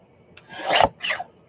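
Board being cut for a junk journal master board, two short rasping strokes close by, the first longer and stronger and the second briefer.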